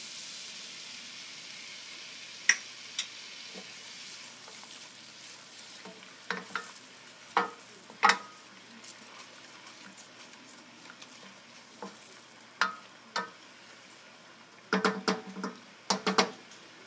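Lemon juice sizzles in a pan of shrimp scampi, a soft steady frying hiss with scattered sharp clinks and stirring scrapes of a utensil against the pan throughout.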